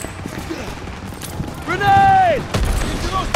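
Gunfire in the World War II shooter game Call of Duty WW2 rattles in rapid bursts beneath battlefield noise and a voice, with a loud rising tone sweeping through the middle.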